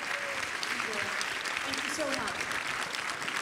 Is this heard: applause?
yes